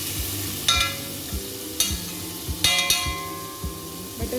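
Butter melts in a hot pan for butter chicken, giving a steady soft sizzle with a few clinks and stirring scrapes. No one speaks.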